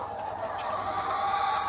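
A chicken gives a soft, continuous throaty clucking close by, steady for under two seconds over faint background hum.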